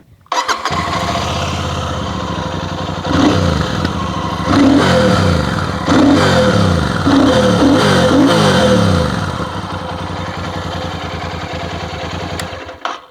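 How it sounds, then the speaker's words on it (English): A Royal Enfield Super Meteor 650 cruiser motorcycle cranks and fires up, then settles into a loud, deep idle with several sharp throttle revs before easing back down. "let me start the motorcycle and make you guys hear the exhaust note"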